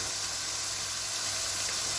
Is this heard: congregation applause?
no